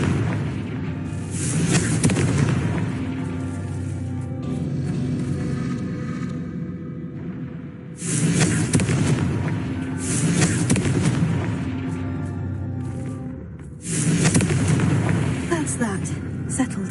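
Confringo explosive spell blasts in Hogwarts Legacy land as three loud booming bursts with rumbling tails, spaced several seconds apart, while a voice talks between them.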